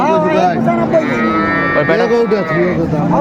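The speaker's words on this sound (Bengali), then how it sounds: "দেখ আরো দশটা গরু আছে" A long, loud cow moo rises and wavers for several seconds at a busy village cattle market selling Sahiwal, Sindhi and local dairy cows with calves, close and dominant over a faint crowd murmur.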